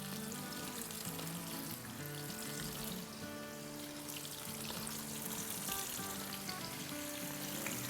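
Onions and tomatoes frying in a pan for chicken karahi, a dense continuous sizzle with faint clinks of stirring, close and steady, with no talking.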